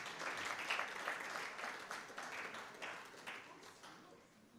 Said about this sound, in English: Can we clap for our sponsor,